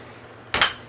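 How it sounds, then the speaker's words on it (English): Water hits a hot pan of caramelizing apples and sugar with one sudden, close hiss that flares sharply after near silence and then starts to fade. "add a little bit of water"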